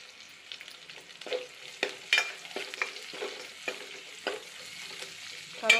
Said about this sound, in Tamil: இதில் இப்போ கருவேப்பிலை சேர்த்துக்கலாம்.